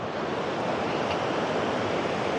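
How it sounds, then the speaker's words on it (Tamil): Water rushes fast and forcefully through a large dam, a loud, steady broadband roar with no pauses and no voices over it. "இந்த அணையிலையுமே தண்ணி நல்லா செம ஸ்பீடாக போகுதுங்க"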